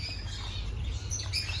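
Small quails chirp inside a bird shop in Australia. Short, faint high tweets come over a low background hum, with a few quick calls clustered near the end.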